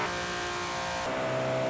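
A Hennessey VelociRaptor on a top speed run, steady sustained engine drone that jumps in pitch and gets brighter partway through, loud and constant with no talking.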